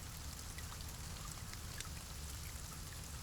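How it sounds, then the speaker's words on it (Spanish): Steady rain falls outdoors onto a sidewalk, a soft continuous hiss with faint scattered drop patter, quiet and even with no voices. "Está lloviendo."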